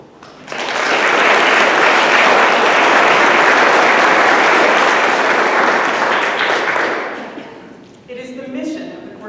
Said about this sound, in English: give a round of applause to those who encourage our young people outside of school.